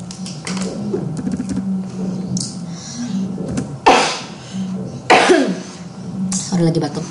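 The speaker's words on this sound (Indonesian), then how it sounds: "Sorry, lagi batuk." Several sharp coughs break up close-range talking, with a couple of loud hacking bursts near the middle.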